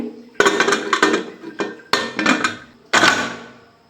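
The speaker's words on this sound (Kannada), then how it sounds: "ಕುಕ್ಕರ್ನ ಮುಚ್ತಾ ಇದ್ದೀನಿ" A metal pressure cooker lid is fitted and closed on a pot of mutton sambar, giving a series of sharp, close metallic clanks and knocks in irregular bursts, with the last ring fading out.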